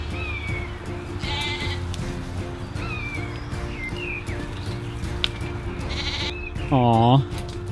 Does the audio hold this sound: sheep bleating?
yes